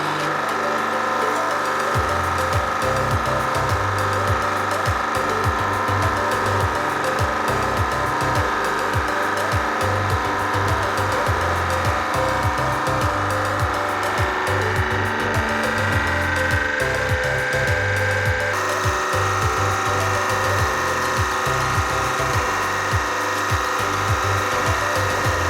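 A 100-ton hydraulic press crushes a mirror-polished Japanese foil ball, giving a loud, continuous mechanical drone with steady rhythmic low thumps throughout.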